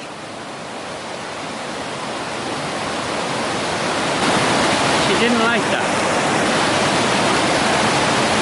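A large creek rushes loudly and steadily, a broad continuous roar of water that swells slightly over time, with a brief voice speaking over it midway.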